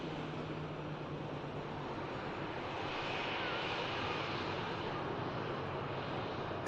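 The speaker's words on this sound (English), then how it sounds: "the Air France just touching down, coming in from Paris, Charles de Gaulle, E190 long range" An Air France Embraer E190 jet touches down at Manchester Airport, heard as a steady, broad distant roar of engine noise that swells slightly midway, with no voices.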